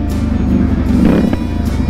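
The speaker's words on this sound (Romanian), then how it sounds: "Ia auzi rateul ăla." Loud, close car with a new aftermarket exhaust rumbling continuously, with a brief crackle of exhaust backfire mid-clip amid steady low engine drone.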